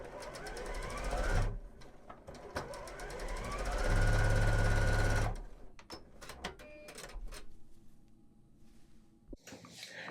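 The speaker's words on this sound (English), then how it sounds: "I'm just going to carefully pull this aside and flip it and sew that other piece on there" A sewing machine stitches small quilt block pieces together for an Ohio Star block, running in close, steady whirring bursts that swell loudest midway, then give way to quieter handling clicks and rustles.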